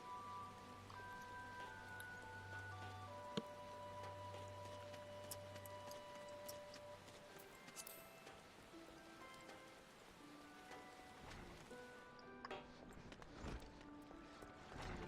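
Rain falls at night in Final Fantasy XIV, a soft patter of drops on surfaces under faint tonal game ambience, steady throughout with a few brief thumps near the end.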